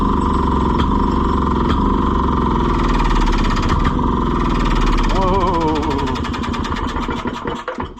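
A Maytag Model 92 multimotor engine runs on its own, putting out a loud, steady chugging idle with regular firing pulses, then the speed falls and wavers as it sputters toward a stop near the end.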